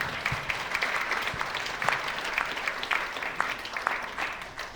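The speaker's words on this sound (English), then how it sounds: "I think she deserves a round of applause." Steady audience applause at a conversation event, many hands clapping together at a moderate level throughout with no voices over it.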